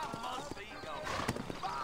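Hooves clop and a horse snorts or whinnies briefly in the Western video game Red Dead Redemption, short and fairly soft, with game sounds layered over it.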